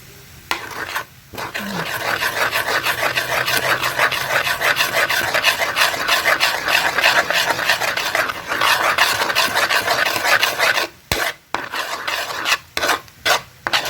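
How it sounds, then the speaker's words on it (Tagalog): Continuous scraping and rasping of a utensil stirring fried rice in a pan, steady and close, breaking into short choppy strokes near the end. "Ihalo sa fried rice."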